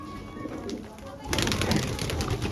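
Pigeons in a rooftop loft coo softly, with the cooing rising more densely partway through, while people talk nearby over the birds.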